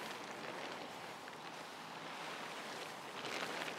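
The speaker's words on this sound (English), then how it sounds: "because it's a fairly windy day" Steady, broadband wind noise rushes across the microphone throughout on a windy day outdoors while pitching a tunnel tent, with gusts swelling slightly toward the end.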